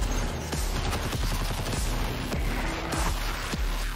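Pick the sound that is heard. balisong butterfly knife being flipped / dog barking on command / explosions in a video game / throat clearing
explosions in a video game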